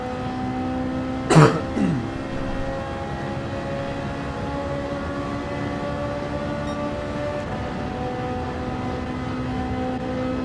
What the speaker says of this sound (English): this cough I can't get rid of now